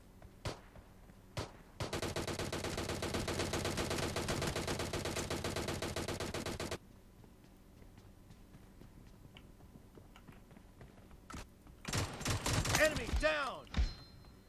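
Gunfire in PUBG Mobile, a long sustained rapid burst of shots lasting several seconds, a few isolated shots before it, and a jumble of game sounds and effects near the end.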